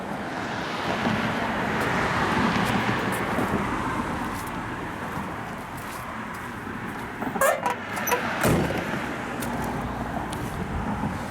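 A 1965 Chevrolet Chevelle Malibu SS with a big-block engine runs steadily, a broad continuous rumble heard up close outdoors, with a few brief sharper bursts near the end.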